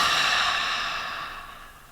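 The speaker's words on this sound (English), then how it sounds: "you can use that long exhaled breath out the throat" Long, soft exhaled breath pushed out through the throat during a slow yoga flow, a steady airy rush that gradually fades over about two seconds, alone without speech.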